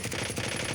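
A Grau rifle fires full-auto with a 50-round magazine and mono suppressor in Warzone, a brief, fast, dense burst of muffled rapid shots up close.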